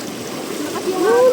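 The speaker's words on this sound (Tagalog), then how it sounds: "Ang lakas ng agos." Strong current of the Dipalo River in Pangasinan rushes steadily in a close, broadband wash, with a brief rising tonal sound near the end.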